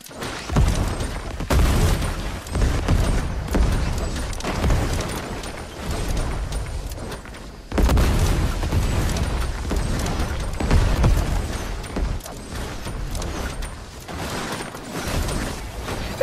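Explosions from bombing in the video game Fortnite boom and rumble in dense, heavy bursts, loud and continuous with deep low-end thuds, a sharp fresh blast partway through, and no talking.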